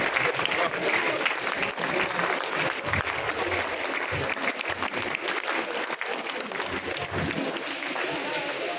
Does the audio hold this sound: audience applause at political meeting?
yes